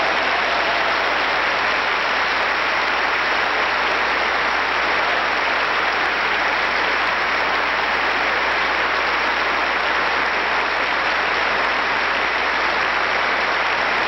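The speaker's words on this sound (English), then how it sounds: "Another round of applause." A large audience gives the president sustained applause, loud dense clapping that continues unbroken and steady throughout, like a crowd in a big hall.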